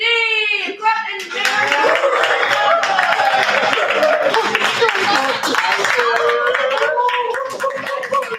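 An open mic audience at a Halloween party claps and cheers for the next performer, loud, dense applause mixed with whoops and laughter after a brief voice, fading slightly near the end.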